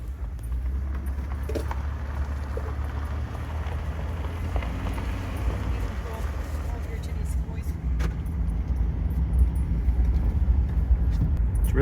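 A full-size truck rumbles along bumpy Going-To-The-Sun Road in Glacier National Park, Montana, with a steady low engine and road drone, rattles and jangling inside the cab, and people talking over it.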